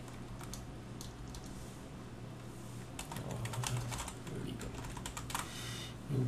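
Fingers type on a computer keyboard in quick, uneven bursts of close clicks, quiet at first, then busier and denser in the second half.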